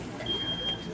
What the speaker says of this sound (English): 15 seconds for the smoke detector.